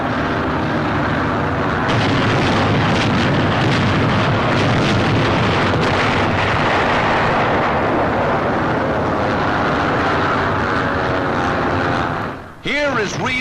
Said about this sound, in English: Here is real pinpoint bombing.